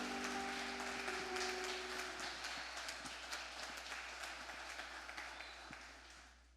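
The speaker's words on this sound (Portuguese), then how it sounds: "Gostaria que você desse uma salva de palmas para Jesus" A church congregation claps for Jesus, a dense burst of applause that starts strong and slowly thins and fades over several seconds, with a faint sustained tone underneath at the start.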